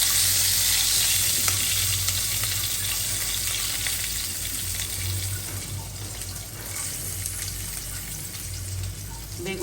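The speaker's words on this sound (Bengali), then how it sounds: "এখানে শুকিয়ে আর আলুটা ভাজা হয়ে গেছে, এটা দিয়ে দিব" Potatoes and mixed vegetables fry loudly in a pan, a dense continuous sizzle and crackle with faint stirring underneath, lasting about ten seconds at close range.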